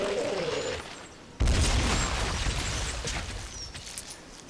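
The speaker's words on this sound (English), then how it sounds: "Whites are like enemy suicide bombers. They explode" In the game Myth III, suicide-bomber units explode in a sudden loud burst partway through, followed by a rumbling crackling tail that slowly fades.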